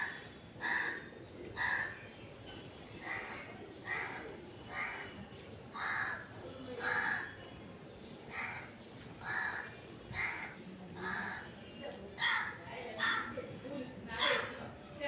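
A crow caws repeatedly in short bursts, roughly one or two calls every second, fairly close by, while people talk and someone speaks in the background.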